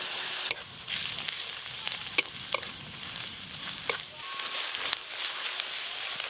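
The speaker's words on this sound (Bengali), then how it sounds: "পেঁয়াজ কুচি আর গুঁড়ো মশলা একটু ভালো করে ভেজে নিলাম।" Chopped onion with chilli, turmeric, cumin and coriander powders fries in oil in a pan on a village clay stove, a steady soft sizzle broken by several sharp scrapes and taps of stirring.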